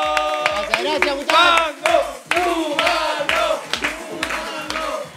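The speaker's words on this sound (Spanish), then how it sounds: "¡Fuerte el aplauso para mi gran amigo Chumango!" A live stage-show crowd claps and cheers for a performer in lively bursts, while a rhythmic low beat pulses underneath and someone shouts out over the noise.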